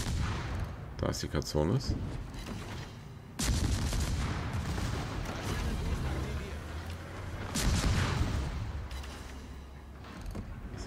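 Heavy warship guns of the Chung Mu firing in World of Warships, several booming salvos with rumbling blasts and crackling impacts, while someone talks over the battle noise.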